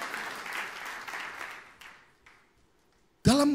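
A church congregation claps enthusiastically for a couple of seconds, the applause thinning out and fading to silence before a voice speaks briefly at the end.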